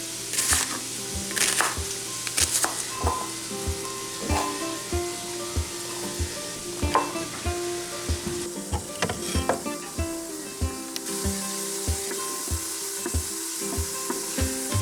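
Bacon sizzling and frying in an Instant Pot, with a steady crackle broken by regular clicks and scrapes of stirring, close and clear.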